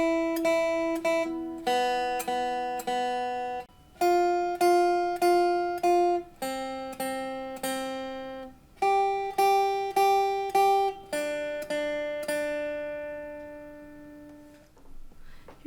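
Beginner guitar exercise alternating between the first and second strings, played as a steady, evenly paced run of plucked single notes that ring and decay, clear and close with no voice.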